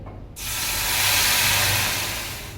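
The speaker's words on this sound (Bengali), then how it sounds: "এবার যে পেঁয়াজ পেস্টটা করে রেখে দিয়েছিলাম সেই পেঁয়াজ পেস্টটা আমি দিয়ে দেবো।" Onion paste hits hot oil left from frying fish and bursts into a sudden loud, close sizzle. The rushing hiss swells and then slowly eases over a couple of seconds.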